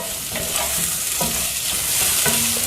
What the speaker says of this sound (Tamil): இப்போ இதை போட்டு வதக்கலாம்.